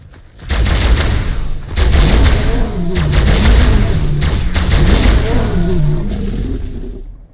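Rapid rifle fire rings out in ARK on the Sanctuary map, loud close bursts of repeated shots layered over thumps and booms across several seconds, with no talking.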